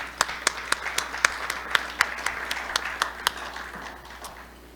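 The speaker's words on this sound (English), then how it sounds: "Can I have a little clap for them?" A small audience at a Rotary club meeting in Toledo claps briefly, a scattered patter of hand claps with a few louder individual claps standing out, fading toward the end.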